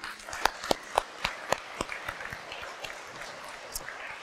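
A congregation at Sunday Mass applauds Gaston with scattered claps in the church, a few sharp nearby claps standing out against a dense, moderately quiet patter that fades over a few seconds.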